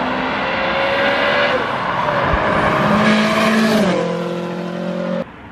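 Clive's 506 bhp 2.1 stroker Subaru Impreza revs hard close by, a loud engine note that climbs and drops with gear changes and then cuts off abruptly near the end.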